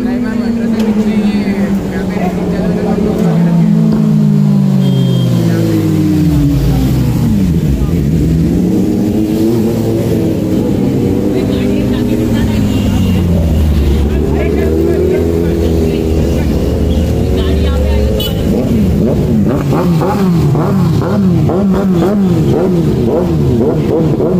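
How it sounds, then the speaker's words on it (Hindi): Motorbikes racing at an IIT Bombay techfest, loud engines rising and falling in pitch as they rev and pass close by one after another, with crowd noise and voices underneath. "आईआईटी बॉम्बे में बाइक की रेसिंग हो रही थी"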